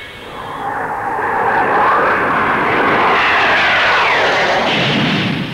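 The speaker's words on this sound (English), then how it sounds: "Blackburn Aircraft's contribution in the transonic field is the NA-39, a two-seater strike aircraft for the Navy" A Blackburn NA-39 two-seat transonic strike jet for the Navy flies past at a Farnborough air show, a loud, continuous roar that builds and holds steady throughout, with no voices.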